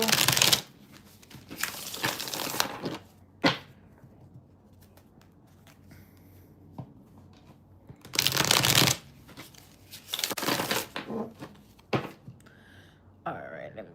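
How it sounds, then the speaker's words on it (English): Tarot cards shuffled by hand in several bursts of rapid riffling and flicking, close and crisp, separated by quieter pauses with soft handling noises. "Let me just shuffle."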